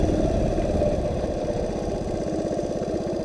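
A Honda PC50 moped idles close by, its small engine settling into a steady, rapid putter that stays even and fairly loud throughout, with no talking.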